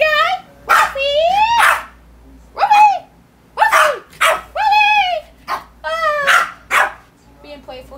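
A dog barks and yips repeatedly at a toy squid, nearby and loud. The sharp barks come in irregular bursts mixed with whiny, whimpering yelps and brief pauses.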